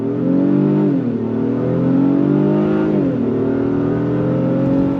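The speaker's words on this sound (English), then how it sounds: "pulling away from the light, let me show you a U-turn." A 2025 Honda Pilot Trailsport midsize SUV with all-wheel drive pulls away from a stop. Its engine hums loud and close, and the pitch climbs steadily through two upshifts with no speech.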